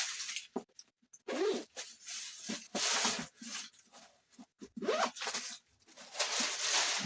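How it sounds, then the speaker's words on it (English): A designer handbag's zip closure being worked open and shut in a run of quick, close zipping strokes, loud and dry, alone with no talk. "Zip closure, if I didn't mention it."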